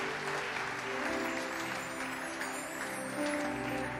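A church congregation applauds steadily throughout, a dense, sustained wash of clapping with a faint swell near the end and no voices standing out.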